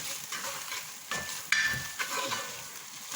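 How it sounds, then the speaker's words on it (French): Plantains stirred in a hot frying pan after salting, a soft scraping stir over steady sizzling, with a few brighter clinks of the utensil against the pan; no voices. "Remuer le tout."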